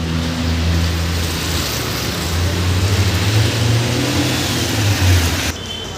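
Interior of a Naresh Travels night bus on the Mumbai to Karad route: a steady low engine drone with broad road roar that holds throughout, easing slightly just before the end.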